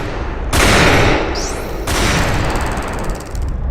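Gunfire ringing out outdoors: loud bursts of sharp, dense shots in two sustained volleys with a brief high whistling sweep between them, crowding the whole clip with no talk.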